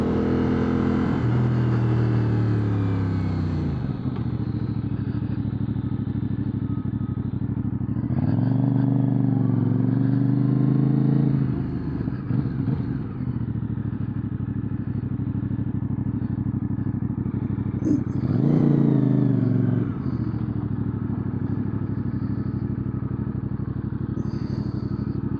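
A 2025 CFMoto CLC 450 motorcycle on a ride, its engine droning steadily and loudly throughout, with several rev changes as it shifts and accelerates, plus wind rumble.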